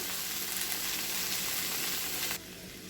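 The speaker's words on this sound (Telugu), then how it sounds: "చూడండి, ఫ్రై వేగిపోయిందండి." Okra (bendakaya) sizzling steadily in hot oil in a pan, a dense continuous hiss that drops to a quieter, softer fry near the end, with no voices.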